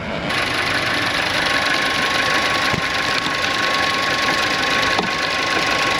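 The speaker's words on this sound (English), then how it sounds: "Compressor's running down there, it looks like." A car's AC compressor runs with the engine idling in a repair shop, a steady close mechanical whir and rattle with faint clicks and a thin high whine above it.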